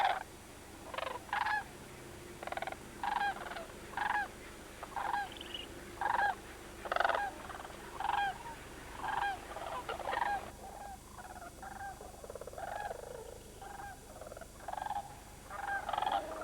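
Sandhill cranes call from a wetland in a steady series of rattling, bugling cries repeating about once a second, moderately distant and clear, with no talk over them.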